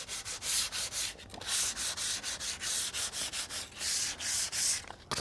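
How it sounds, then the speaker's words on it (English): Sandpaper rubbed by hand over a coated bench top in steady back-and-forth strokes, a close, loud, rhythmic rasping scrape repeating about twice a second with brief pauses. "let the sandpaper do its job."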